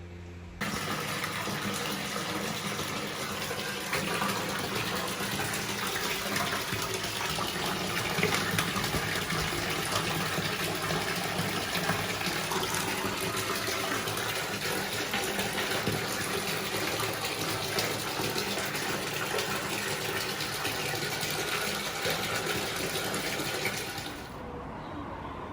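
Tap water gushes steadily into a bathtub in a hotel room in Brighton, a continuous loud broadband rush that holds unbroken for about twenty-four seconds before cutting off near the end.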